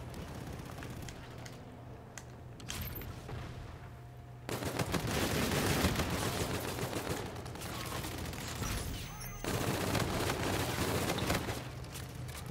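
Sustained automatic gunfire from a gun in Call of Duty: Infinite Warfare, dense rapid bursts with a quieter stretch at first, then continuous heavy firing and a short break near the end.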